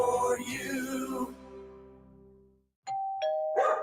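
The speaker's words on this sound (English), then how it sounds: "It's another roof gypsy ringing the doorbell." A doorbell rings inside a home, a clear two-tone ding-dong chime sounding after a stretch of background music fades out, then chiming again moments later, close and fairly loud.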